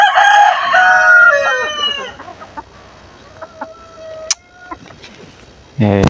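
Chickens at a small backyard poultry farm damaged by a typhoon: a rooster crows loudly up close, followed by scattered soft clucks, then a short burst of noise at the end.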